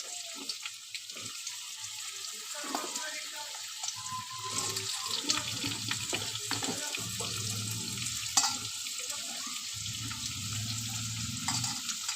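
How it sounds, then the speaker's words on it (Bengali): Potatoes coated in salt and turmeric fry in a karahi with cumin and bay leaf, sizzling and spitting steadily at close range, with stirring that makes the hiss swell at times. "এখন আমি আলুটা ভেজে নেব।"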